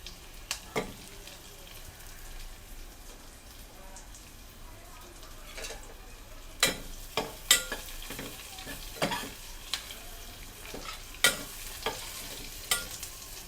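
Spices sizzle and get stirred in a pan for vegetable dalcha, a steady frying hiss throughout with sharp clinks and scrapes of the spoon bunching up in the second half; no talking.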